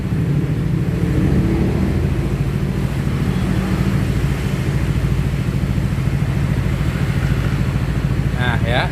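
A Yamaha Nmax scooter engine runs steadily while its front wheel spins during a speed-sensor test, a loud continuous close-up drone that stays even throughout.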